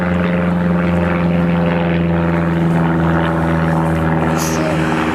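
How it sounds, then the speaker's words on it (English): A propeller airplane drones overhead at an outdoor retreat, a steady, loud engine hum with strong tonal harmonics holding for about five seconds. "I'll let the plane go over."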